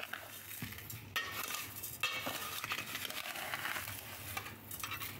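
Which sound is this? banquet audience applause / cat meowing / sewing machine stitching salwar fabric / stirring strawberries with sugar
stirring strawberries with sugar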